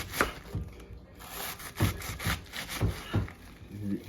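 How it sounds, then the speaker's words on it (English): A sharp knife slices cabbage into thin julienne strips on a board, quiet crunching cuts repeating in a loose rhythm of about a stroke every half second, close by. "I got a good sharp knife. I just want those julienne strips."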